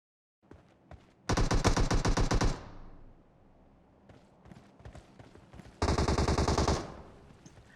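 Two long bursts of rapid automatic gunfire ring out in PUBG Mobile, loud and close, separated by a quieter stretch of scattered single shots and faint rustling.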